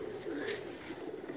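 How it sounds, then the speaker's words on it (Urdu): A pigeon released into the air at a pigeon fancier's dera in Pakistan, with soft cooing and a brief flutter close by over a steady background murmur. "اس کو ہوا میں چھوڑیں گے کبوتر کو چھوڑیں جی"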